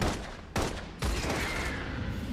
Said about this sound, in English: After the loud gunfire ends